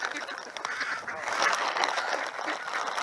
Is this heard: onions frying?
no